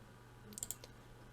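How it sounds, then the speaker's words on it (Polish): A computer mouse gives a quick right-click during an iSCSI disk setup, heard as two or three very faint, sharp ticks in close succession against near silence. "Aby taki e, dysk wykorzystać, klikamy prawym przyciskiem Bring Online,"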